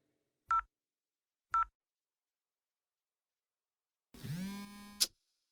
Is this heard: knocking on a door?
no